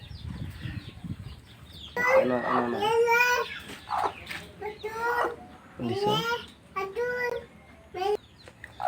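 Soft peeping of newly hatched chicks and clucking from a hen on a poultry farm, with someone talking over them in bursts throughout.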